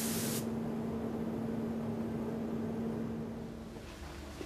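A spray gun sprays car paint with a loud, steady hiss that starts at once and holds evenly for a few seconds, easing off slightly toward the end.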